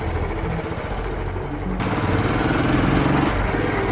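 A Royal Enfield Classic 500 BS4 motorcycle with a 499cc single-cylinder engine runs steadily on a quiet road. The engine note is close, even and continuous, and it grows slightly louder and rougher about halfway through as the bike pulls away.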